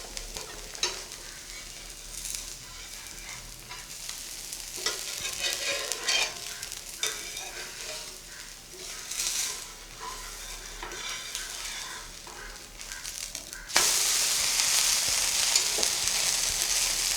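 A rava dosa cooking on a pan over low flame after being flipped, a soft, fairly faint sizzle with occasional crackles, then a sudden louder, steady hiss toward the end.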